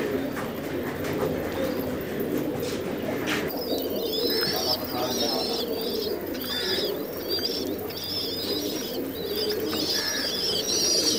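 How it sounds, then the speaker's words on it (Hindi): Pigeons perched on the walls of a loft coo continuously in a soft, overlapping low murmur, with a few sharper bird calls and rustles above it. "बहुत प्यारे कबूतर हैं। ये देख रहे हैं व्यूअर किस तरह से बैठे हुए गूंज रहे हैं दीवारों पे।"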